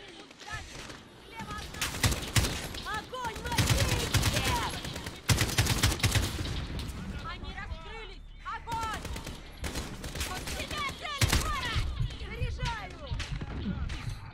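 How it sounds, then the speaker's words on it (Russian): Rapid automatic gunfire and bursts of shots from the video game Call of Duty: Modern Warfare, loud and nearly continuous, with a voice talking over the shooting. "Нихера он шмаляет."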